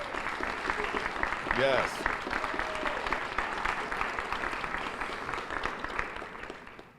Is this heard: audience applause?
yes